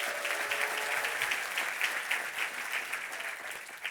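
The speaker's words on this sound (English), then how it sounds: "Give them a round of applause" Audience applause at the opening of the Judkins Park and Mercer Island light rail stations, honoring the workers who built and maintain the bridge; a steady, dense wash of clapping from a large crowd, sustained throughout.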